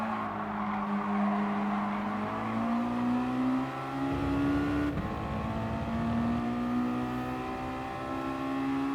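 A Mazda MX-5 Roadster touring car races in a video game, its engine whining steadily through the gears with rising and falling revs. There is a brief rougher surge partway through, and the engine runs alone at moderate volume.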